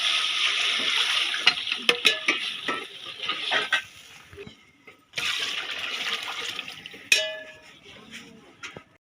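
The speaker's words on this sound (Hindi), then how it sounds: "अब हम इसमें पानी डालेंगे।" Water pours steadily into a cooking pot for chana rice with a broad hissing splash, pausing briefly before resuming, with a few clinks of metal along the way.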